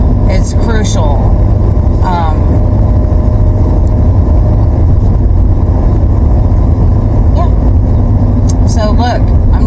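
A car driving, its engine and road rumble a loud steady drone, close throughout, with a person talking over it at times.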